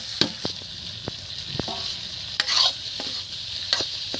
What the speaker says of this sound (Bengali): এবার এর মধ্যে যে সিদ্ধ করা ছিল ওলটা দিয়ে দিচ্ছি